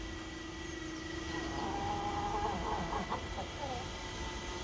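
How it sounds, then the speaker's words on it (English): Backyard chickens cluck softly in a quiet outdoor setting, a few short murmuring calls over a faint steady background hum. "These are our backyard chickens."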